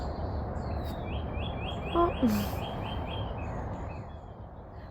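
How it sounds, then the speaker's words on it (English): Mockingbirds sing in a backyard vegetable garden in Tampa Bay, Florida, a faint repeated chirping phrase heard over steady outdoor background noise, with a brief voice in between. "They're mockingbirds."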